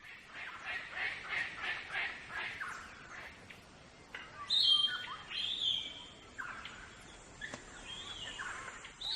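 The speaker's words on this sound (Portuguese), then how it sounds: "As aves locais reúnem-se em árvores que têm frutos." Wild birds such as palm cockatoos gather in fruiting trees in Australia, giving a rhythmic series of chirps followed by louder squawking calls, moderately near, with soft narration in places.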